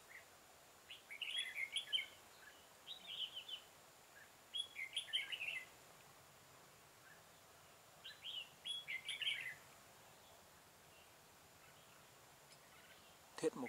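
A red-whiskered bulbul, caught in a trap and with an injured leg, gives several short bursts of bright chirping notes, fairly faint and spaced apart over a quiet background.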